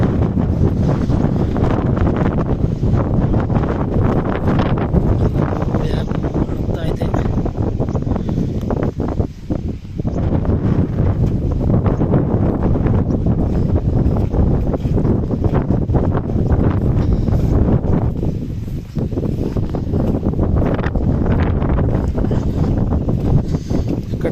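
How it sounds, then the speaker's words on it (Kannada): Strong wind buffets the microphone outdoors beside farm fields, a loud, continuous rumbling roar with gusty surges that briefly dip and return throughout. "ಗಾಳಿಗೆ ಎಷ್ಟು ವಾಯ್ಸ್ ಕ್ಲಿಯಾರಿಟಿ ಬರ್ತಾಯಿತ್ತೋ ಗೊತ್ತಿಲ್ಲ ಸಕ್ಕತ್ತು ಗಾಳಿ"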